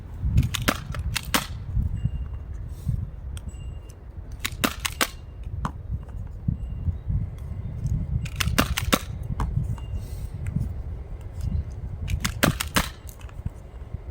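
A Nerf blaster fires foam darts in quick clusters of sharp snapping pops, several shots per burst with gaps between, over a constant low rumbling handling noise.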